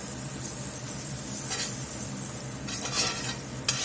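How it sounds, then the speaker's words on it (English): Beef frying in a skillet with avocado oil and butter, a steady close sizzle with a few sharper scraping stirs of a utensil against the pan, no voices. "We're going to get some avocado oil in the skillet. Pat of butter. We're going to Finish cooking this beef"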